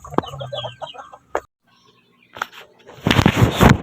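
Rhode Island Red chickens cluck in short bursts near feeding time, with a gap of quiet midway and a louder, denser flurry of fowl noise near the end.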